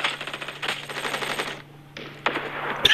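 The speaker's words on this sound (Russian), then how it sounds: "Стреляю в него, стреляю, тут развернулся," Rapid automatic gunfire from the mobile shooter game Battle Prime rattles in close, dense bursts, breaking off briefly before another burst starts.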